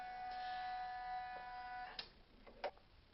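An embroidery machine runs a placement stitch with a faint, steady motor whine. A couple of small clicks and ticks follow near the end, and no one speaks.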